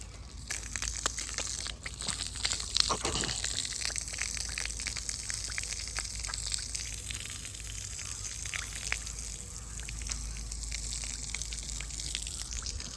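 Water gushes steadily from a newly installed pump motor at a house under construction, a constant splashing rush with a few brief knocks early on.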